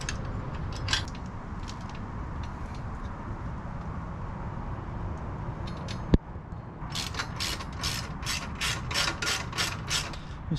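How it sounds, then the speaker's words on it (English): A ratchet tightens a crash bar bolt on a 2021 Honda Africa Twin, close metallic clicking in scattered bursts, then a fast rhythmic run of about ten clicks after a sharp knock near the middle. "Just tighten the lower bolt"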